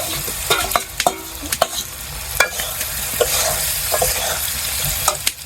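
Potato and onion drop into a hot frying pan with loud sizzling, then sharp clatters of a spatula stirring, frying hiss steady underneath.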